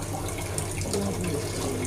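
Water is poured into gram flour (besan) for a home-cooked kadhi, a steady close splashing and trickling that runs unbroken for about two seconds with no talk.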